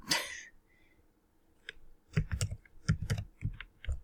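Typing on a computer keyboard: a brief burst of rapid, close clicking keystrokes in uneven clusters, following a short breathy sound at the start, with no talking.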